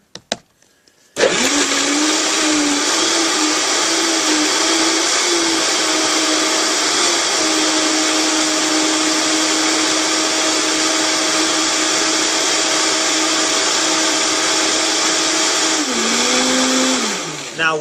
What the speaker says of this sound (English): And then I'm going to blend, baby.